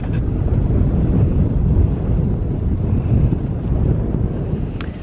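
Strong wind buffeting the microphone at an RV boondocking campsite, a loud, continuous low roar with gusty swells and no pauses, no voices heard.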